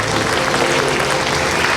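Audience applause at a party membership appointment ceremony during a year-end gathering in Hongseong, a dense, loud wash of many hands clapping continuously without pause.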